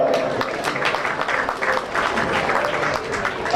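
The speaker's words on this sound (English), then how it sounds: "Let's give these 6 exhibitors a big round of applause." Spectators at a county fair swine show give a loud, steady round of applause for six exhibitors, a dense wall of clapping with no pause.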